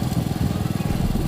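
A motorcycle ridden slowly along a road, its engine putting out a steady low, pulsing chug that stays close and even throughout.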